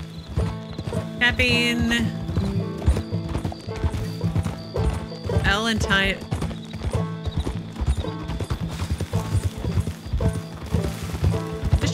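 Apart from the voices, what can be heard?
horse galloping hooves in Red Dead Redemption 2 video game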